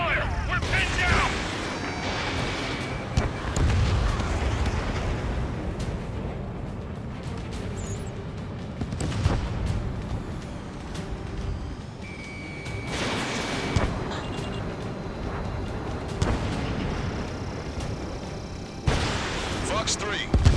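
Gunfire and explosions in the combat flight game Ace Combat 7, with heavy, continuous bursts and booming blasts layered over radio voices talking throughout.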